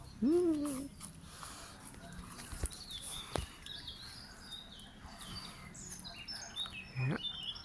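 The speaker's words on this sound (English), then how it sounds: "Yeah, there's birds in the tree." Birds in a tree give scattered bright chirps and short calls at a moderate distance, intermittent over several seconds, while a close, louder sound near the start rises above them.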